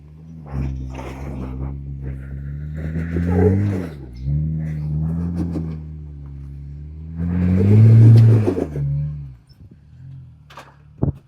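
An off-road vehicle revs its engine while climbing a steep, ledged trail hill. Throttle surges swell and ease in waves, with a loud peak near the end before the engine drops off, then a few faint knocks.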